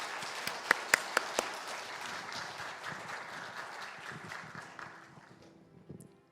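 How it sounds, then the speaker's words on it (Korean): Church congregation applauding at a Sunday joint worship service, a few sharp claps at first, then dense steady applause that slowly thins and fades away toward the end. "우리 한번 큰 박수로 격려해 주시기 바랍니다"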